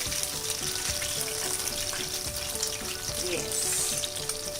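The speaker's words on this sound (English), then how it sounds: "The fish has turned golden brown in color, and now we are just turning it." Corn flake coated fish frying in hot oil while being turned, a steady close crackling sizzle with bubbling throughout and no talk.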